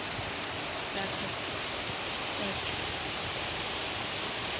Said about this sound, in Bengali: কত জোরে বৃষ্টিটা পড়ছে, রাস্তায় বৃষ্টিতে চমকাচ্ছে